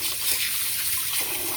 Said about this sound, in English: with nice clean cold water, we're just going to keep rinsing it and rinsing it and rinsing it until it's clean